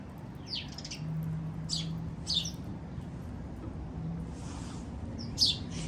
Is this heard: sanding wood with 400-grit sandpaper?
no